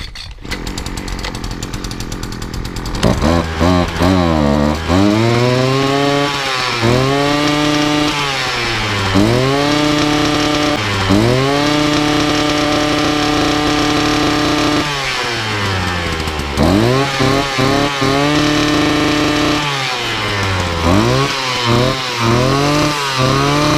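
A small two-stroke strimmer engine starts and runs loudly up close after its fuel lines are replaced, revving up and dropping back to idle again and again in a steady cycle.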